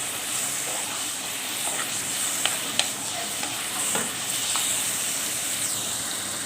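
Tomatoes softening in a pan for chicken keema, with a steady sizzling hiss throughout and a few brief scrapes and clinks of a spoon stirring.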